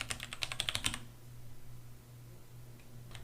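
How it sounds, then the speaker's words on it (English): Seven quick keystrokes on a computer keyboard spell out a single word, a short burst of close, crisp clicks in the first second followed by quiet room hum. "if I type in biology, that will take me 7 keystrokes"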